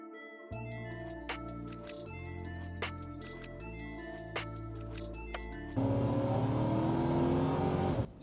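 A Chevrolet Tahoe with a clutch fan accelerates hard from a standstill to 50 mph, its engine droning up through several gear changes with a rising tone, then a louder rush of wind and road noise near the end; no talk.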